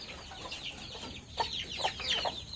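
Chickens penned behind netting in a yard cluck softly, with a few short clucks standing out near the end over a light outdoor background.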